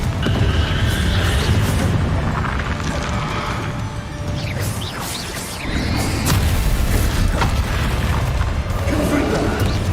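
The Confringo explosive spell in the video game Hogwarts Legacy bursts amid a loud, dense battle, with booming, crashing blasts running steadily throughout and spoken voices mixed in.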